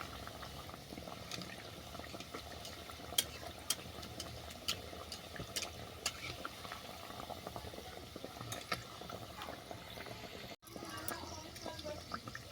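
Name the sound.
frying bread cup in oil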